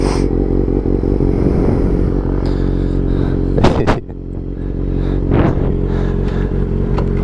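A Kawasaki 636 motorcycle engine idling and rumbling loudly nearby as it creeps downhill, with a steady low drone, a brief scraping burst near the middle, then the engine settling again.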